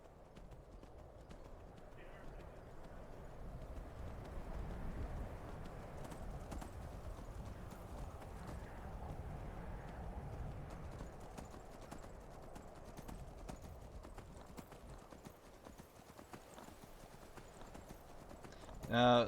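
A horse in Skyrim trots along with rhythmic clip-clopping hooves, a continuous soft beat running the whole way while someone talks over it, a louder thump at the very end.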